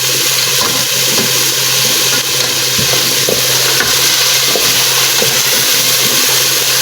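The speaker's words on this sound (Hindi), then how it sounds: "ये देखें, अदरक लहसुन को पका लेना है इस तरह से।" Chopped ginger and garlic frying in a pan over a medium flame, giving a steady close sizzle with occasional stirring scrapes and small pops throughout, loud and continuous with no voices.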